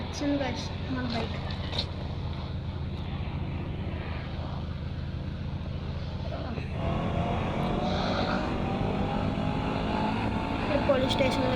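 A motorbike arrives with a low engine drone that swells and grows louder partway through, ending as a nearby rumble, while voices murmur in the background.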